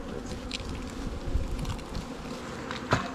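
Honey bees hum in a sustained buzz during a beehive inspection, with faint handling knocks and a brief sharper click near the end, fairly close and without speech.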